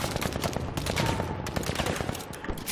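Dense gunfire from a 64-player Battlefield V conquest match, rapid overlapping automatic bursts and single shots crackling continuously, loud and close with distant reports mixed in.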